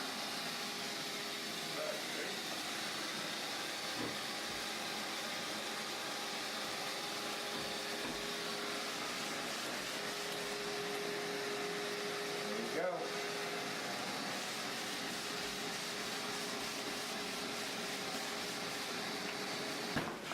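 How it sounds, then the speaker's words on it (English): A shop vac connected to a dustless drywall sander runs with a steady, even whoosh and drone throughout, with a faint clunk partway through. "All you gotta do is turn on the shop vac."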